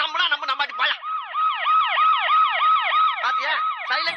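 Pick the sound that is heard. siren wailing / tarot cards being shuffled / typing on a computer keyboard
siren wailing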